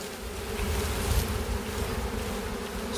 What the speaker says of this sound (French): je vais tout simplement aller secouer les abeilles devant la ruche